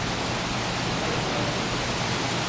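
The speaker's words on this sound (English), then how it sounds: "It's beginning to downpour." Heavy downpour during an afternoon thunderstorm on a trail, a dense, steady roar of rain with no letup and no voices.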